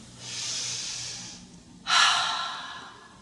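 Two long, audible breaths are drawn through the nose during a gentle yoga exercise. The first is softer and lasts about a second, then a sharper, louder one follows, close and clear, with no talking.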